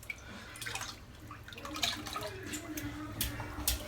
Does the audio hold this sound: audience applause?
no